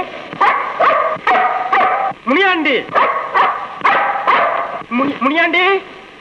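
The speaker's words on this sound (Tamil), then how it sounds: "அதுதான் எங்க வீட்டு நாய் இந்த கத்தி இருக்குது." A house dog barks repeatedly in a steady series of loud, close yelps and bow-wows, with whining tones mixed in, in a scene from a Tamil film.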